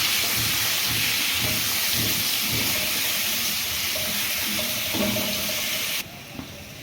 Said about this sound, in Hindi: ये डायरेक्टली आलू इसमें डालना है हमें और इनको थोड़ा सा टॉस करना है